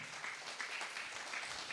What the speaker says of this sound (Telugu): చప్పట్లు కొట్టేసే నామాన్ని కనపరుద్దాం.